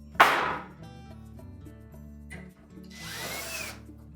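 A power drill drives a retaining screw into the bottom panel of a Whirlpool range: a sharp burst near the start, then a second whirring run of about a second.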